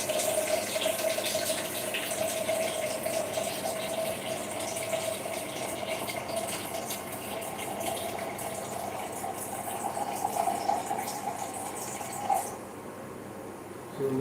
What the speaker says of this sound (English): we add a bit of cold water to cool it down.